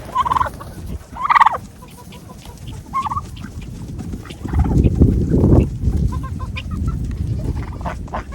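Several chickens cluck and squawk in short bursts outdoors, with steady rustling and low background noise throughout.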